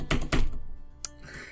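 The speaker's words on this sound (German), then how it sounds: "dass man die Tastatur von dir eigentlich immer in Videos hört" Loud computer keyboard keys clack twice in quick succession, then a single sharp stroke follows after a short pause, close and heavy-sounding.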